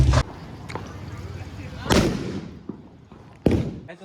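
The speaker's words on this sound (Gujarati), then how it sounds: "ચાલો પેલો ફટાકડો ફોડ" Diwali firecrackers burst outdoors on a festival night: three loud, sharp bangs spaced a couple of seconds apart, each trailing into a rumbling decay over faint background noise.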